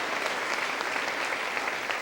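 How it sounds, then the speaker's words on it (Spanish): An audience at a church convention applauds steadily, with dense and even clapping that fills the whole moment and no voices above it. "Un aplauso a estos campeones y campeonas del reino."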